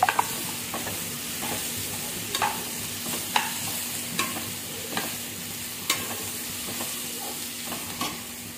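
Small shallots and deseeded dried red chillies sautéing in a pan, a continuous sizzle broken by regular scraping strokes of a spatula every second or so, close and alone.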